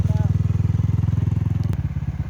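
A motorcycle engine labours with a rapid, steady low throb while climbing a steep, rough mountain road, loud and close, with a voice speaking briefly over it.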